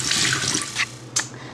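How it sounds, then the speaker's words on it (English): Glutinous rice being rinsed under a running kitchen tap, a steady broadband rush of water with a couple of brief splashy surges, close and fairly loud with no talking. "you want to rinse the rice until the water runs clear"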